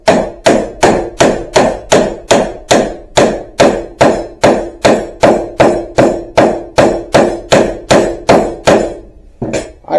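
A handle is driven into a wooden pallet-wood mallet head with about twenty loud, sharp hammer blows in a fast, steady rhythm. The strikes are close and come with no talk, ending with a brief pause.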